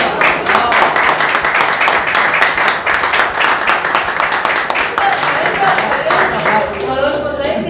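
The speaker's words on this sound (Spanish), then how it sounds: "Un aplauso." An audience at a press conference for a stage comedy applauds, a loud, dense and sustained burst of clapping that keeps going for several seconds, with voices faintly mixed in near the end.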